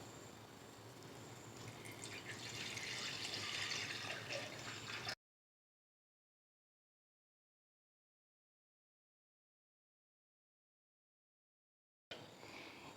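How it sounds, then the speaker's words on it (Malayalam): Tamarind chili water is poured steadily into a clay pot, a splashing trickle that swells for several seconds, then stops abruptly into silence. "അത് നമുക്ക് ചട്ടിയിലേക്ക് ഒഴിച്ചു കൊടുക്കാം"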